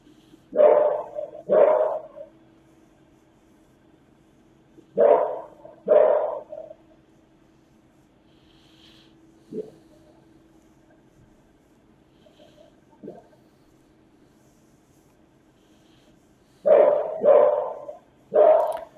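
A dog barks in short bursts of two or three, with quiet pauses between and a couple of faint yips, close by and loud.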